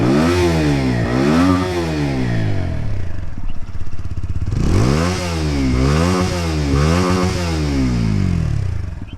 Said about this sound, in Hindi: बाइक को स्टार्ट करके एग्जॉस्ट नोट सुन लेते हैं